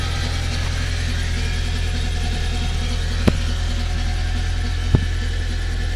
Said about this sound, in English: So the engine's now running